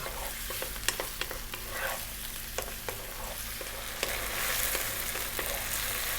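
Okra stir-frying over high heat in a pan, a constant crackling sizzle close up, punctuated by regular spatula knocks and scrapes as the pieces keep moving, with no voices.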